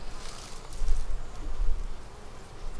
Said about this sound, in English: Oh, no, we do have bees in here.